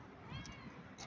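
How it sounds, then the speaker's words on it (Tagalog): A cat in an outdoor park gives a short, soft meow, fairly faint against a light ambient background. "May mga pusa dito."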